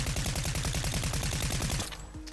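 Rapid sustained bursts of SMG gunfire ring out in Fortnite, a fast, evenly spaced rattle of shots running loud and close for almost two seconds before cutting off into quieter game sound.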